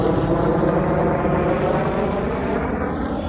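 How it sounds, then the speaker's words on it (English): Helicopters flying overhead send a loud, continuous rotor and engine roar over a memorial cemetery in Alexandria, fading slightly toward the end. "helicopters flying overhead"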